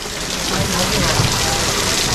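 Waste water gushes out steadily as a parked Duronto Express train is cleaned, a loud, continuous rushing splash with no break.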